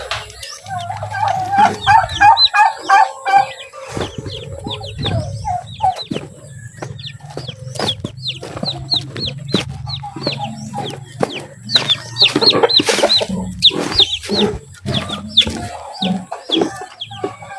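Hens clucking around a poultry pen where chicks have hatched, with repeated short clucks and calls throughout and low voices talking underneath.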